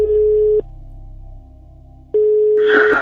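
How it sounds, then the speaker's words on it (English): A telephone line tone opens a recorded phone call: a loud, steady electronic tone breaks off, falls silent for over a second, then returns and is joined by a burst of hissing line noise. No speech. "this chilling phone call opens a whole new lead"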